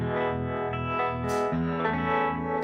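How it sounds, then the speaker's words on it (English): Electric guitar played through an amp's harmonic vibrato set fairly slow, a thick sustained tone with a gentle pulsing throb across several held chords, loud and close with no talking. "As opposed to the harmonic vibrato on my amp"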